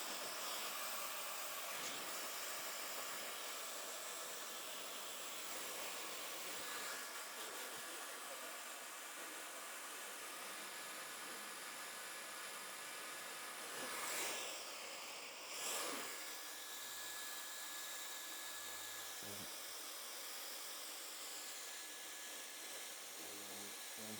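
A hair dryer blows steadily on hair during a haircut, a continuous airy whoosh with a couple of brief surges partway through.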